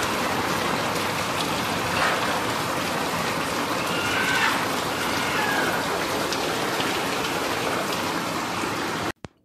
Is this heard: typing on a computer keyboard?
no